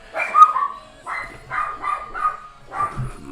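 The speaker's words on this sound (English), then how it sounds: "My dogs are barking." Dogs barking indoors, a series of about five clear mid-pitched barks in irregular bursts, fairly close and alone without talking.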